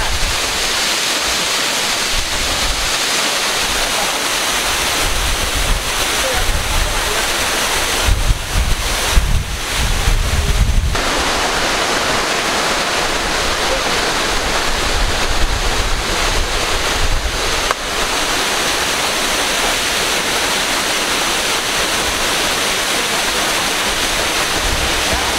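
The Curug Cijalu waterfall pours in a loud, steady, close-up roar of rushing water, with wind buffeting the microphone now and then and no voices.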